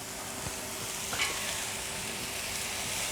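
Meat sears on a garden grill with a quiet, steady sizzle and a few soft crackles and scrapes, close but low in level, and nobody talks over it.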